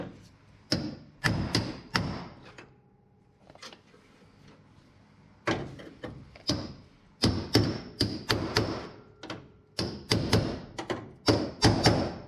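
A hammer drives a screw into sheet metal during bodywork on a 1959 Dodge Coronet, making a series of sharp, loud metallic strikes in quick clusters, separated by short pauses.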